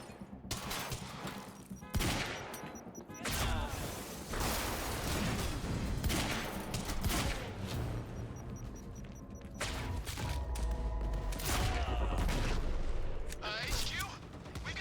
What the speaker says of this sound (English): It's a heavy pistol.